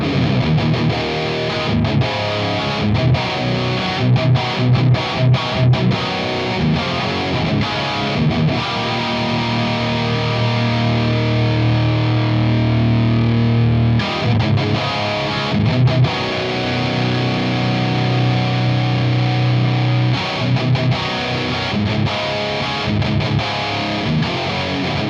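Distorted electric guitar played loud and close through channel 2 of a tube amp with the boost off, sustained chords and chugging riffs with brief choppy stops, no talking.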